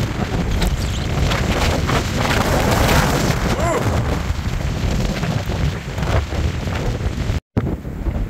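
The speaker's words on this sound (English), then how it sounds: "It's been pretty crappy, windy, sandblasting my legs and stuff" Strong wind buffets the microphone outdoors on the Continental Divide Trail, whipping up blowing sand in a loud, continuous roar with gusty surges and a brief dropout near the end.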